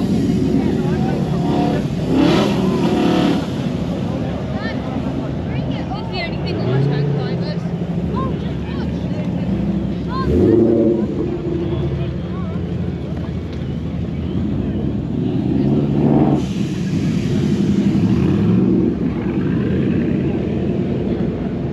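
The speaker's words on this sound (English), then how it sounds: "If you can hear me over the sound of the engines, and they're still coming." Engines of many Ford cars driving past in a steady procession at the Ford Fair at Silverstone, a continuous loud rumble with occasional louder passes, heavy wind buffeting on the microphone, and someone talking over it.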